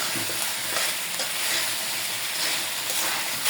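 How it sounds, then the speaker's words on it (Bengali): Cauliflower is stirred and fried with spices in a pan alongside shol fish pieces, giving a loud, continuous close sizzle with scraping stir strokes throughout and no talking. "একটু মশলার সাথে মিশিয়ে দুধের লাড়াচাড়া দিয়ে তারপরে ঝোলের পানি দিয়ে দেবো"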